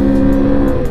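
Two motorcycles with very loud exhausts on a single-lane road roar close by in a brief, powerful engine blast, deep and rumbling, with no talking.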